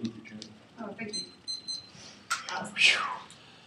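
An alarm clock style kitchen timer beeps in short repeated bursts amid people talking nearby, with some rustling and a louder squeal near the end.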